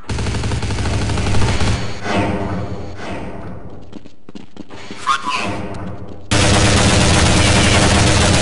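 Counter-Strike 1.6 gunfire rattles in dense, loud automatic bursts, fades into a lull broken by scattered shots, then returns as a sudden heavy volley near the end, with no voices.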